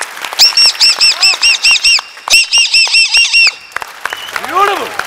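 A voice imitates a caged parrot crying after being beaten on a comedy stage: two bursts of rapid, shrill, evenly spaced squawks, then a brief drawn-out wailing cry at the end, close and loud.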